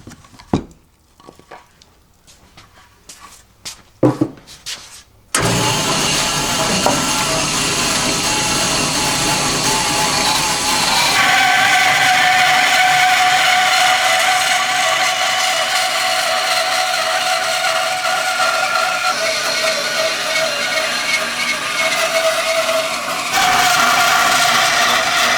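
A bandsaw cuts wood boards for a hive stand, the blade loud and sustained after a few seconds of quieter handling noises, running steadily with a shifting whine through most of the clip.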